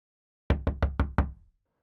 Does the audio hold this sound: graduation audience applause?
no